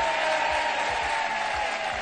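A large studio audience on the French TV game show Mot de Passe (France 2) applauds: dense, loud, steady clapping that fills the whole short clip.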